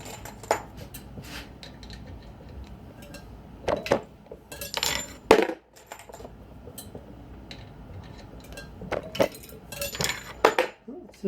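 A Rock Chucker reloading press deprimes cases in a workshop, with sharp metallic clinks of spent primers dropping and scattered rattles and knocks at irregular intervals, close by.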